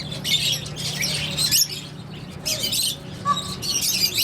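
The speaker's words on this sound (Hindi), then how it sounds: "वो बजरी है, ये लबर्ड है।" Small foreign parrots, lovebirds and budgerigars, chirp and squawk in repeated bursts of busy high twittering, close by and fairly loud, with brief pauses between flurries.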